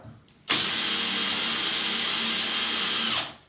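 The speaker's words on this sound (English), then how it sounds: "drilling it." A power drill bores into a wall high up in a bathroom under refit, starting abruptly and running at a steady loud whine for about three seconds before cutting off.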